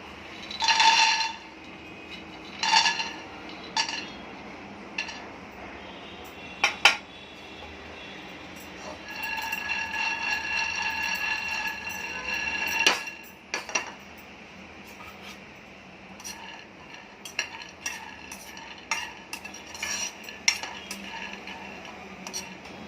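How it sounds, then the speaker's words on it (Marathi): Peanuts are dry-roasted in a hot wok, stirred with a metal spoon that scrapes and clinks against the pan in scattered bursts, with quieter stretches between, close up and without talk. "आता आपली कढई गरम झालेली आहे तर त्यात पहिलं आपण शेंगदाणे भाजून घेऊया"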